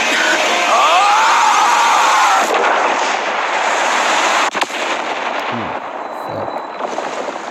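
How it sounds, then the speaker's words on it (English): Fireworks boom and crackle, with a whistling rocket rising at the start and loud bursts echoing afterward. "Nothing like a firework to end the night."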